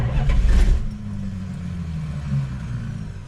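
A rebuilt 1968 Dodge Charger R/T V8 running cold on its first drive, with a loud rumbling burst of throttle at the start that settles into a steady low exhaust drone through the mufflers.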